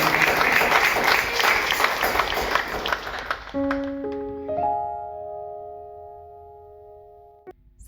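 Congregation applause at a Sunday church service: broad, dense clapping for about three and a half seconds, then it fades out as sustained tonal notes, like keyboard chords, take over.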